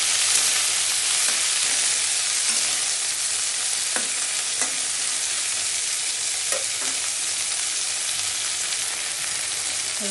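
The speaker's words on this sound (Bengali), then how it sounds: "একটু বয়েল করে নেবো রসুন আর মশলাটাকে।" Garlic and spices cooking in a pan give a steady, dense sizzle for the whole stretch, with a few soft scrapes of stirring and no talking.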